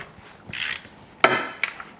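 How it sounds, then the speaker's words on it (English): An electric ratchet with a swivel socket loosening engine mount bolts on a Toyota or Lexus 2GR-FE 3.5L V6, giving short whirring, clicking bursts close to the listener. "I'm just using an electric ratchet with a swivel 14."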